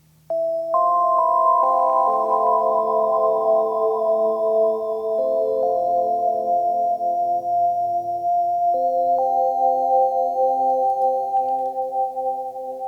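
FabFilter Twin 3 synthesizer playing dry, sustained chords with no reverb, clean tonal layers shifting between a few held voicings, with a faint high whistling tone above.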